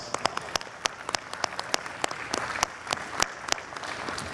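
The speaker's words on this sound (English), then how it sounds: "Let's give him another round of applause" Crowd applause from an audience at a large cultural festival gathering, a steady dense patter of many hands clapping with sharp individual claps standing out, continuous for several seconds with no talk.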